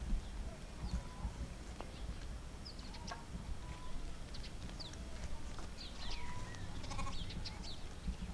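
Sheep from a flock of ewes with lambs bleat intermittently in an outdoor yard, brief calls scattered across a steady background of low rumble and distant farm noise, moderately far and not loud.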